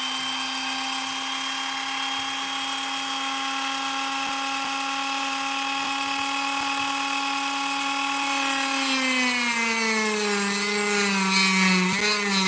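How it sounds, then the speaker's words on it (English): Dremel rotary tool cutting through metal, a loud continuous high-pitched whine that holds steady and then drops in pitch as the tool bogs under load. "let's get the Dremel out. Let's start hacking."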